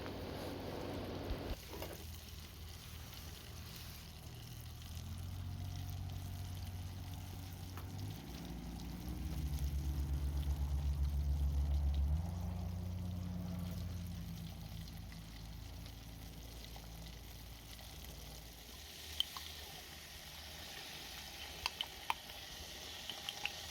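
Saved bacon grease poured into deep fryer oil outdoors, a soft continuous low pouring and bubbling hiss that swells in the middle, then settles into a quiet sizzle with a few faint clicks.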